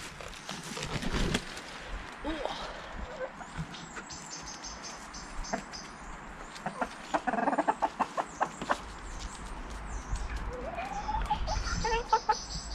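Hens in a coop and run cluck and squawk in bursts of agitated chatter, near and fairly loud, with insect chirps in the background.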